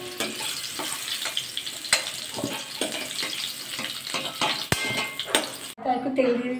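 Fried potatoes being stirred in a pan in a home kitchen, with repeated metallic scrapes and clatters of a utensil against the pan over a steady hiss, close and moderately loud, ending with a short burst of running tap water.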